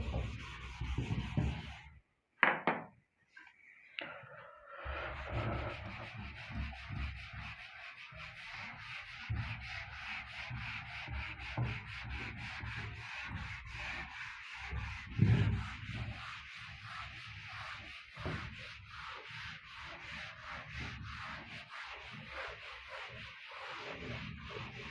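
A duster rubbing across a classroom board to erase it, quiet repeated scrubbing strokes with a few sharper scrapes early on, continuing steadily at a low level.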